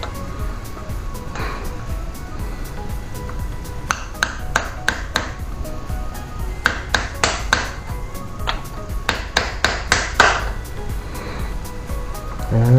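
A motorized bike crankshaft seal is pounded in with a hammer on a 19 socket, a series of sharp metallic taps in quick clusters over a steady background hum.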